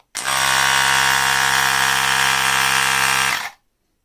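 A CarSun portable electric car tyre air pump switched on, a loud, steady high-pitched motor whine with a buzzing hum that starts abruptly, holds for about three seconds and cuts off.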